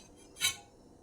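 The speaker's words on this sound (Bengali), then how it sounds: "দশ মিনিট হয়ে গেছে আমি ঢাকনাটা তুলে দিচ্ছি" A metal pot lid lifted off a kadai of covered mango batter for Bengali mango fritters gives a single brief clink of metal, near and fairly quiet against a faint room hush.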